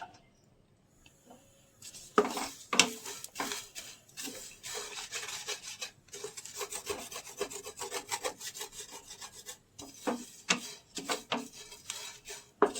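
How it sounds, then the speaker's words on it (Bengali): Flattened rice (chira) is dry roasted in a pan, giving dry rustling and scraping strokes that start after a quiet opening and continue in irregular bursts, close and fairly soft, with no talk. "চিড়েটাকে কিন্তু আমি দিয়ে দিয়েছি শুকনো খোলা, এবার এটাকেও রোস্ট করে নেবো সুন্দর করে"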